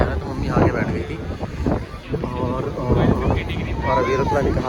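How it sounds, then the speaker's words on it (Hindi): Strong wind buffets the microphone on a boat ride at VedVan in Noida, with water splashing and a continuous rushing roar that rises and falls in gusts. "बार बार हवा चल रही था, पानी आ रहा था"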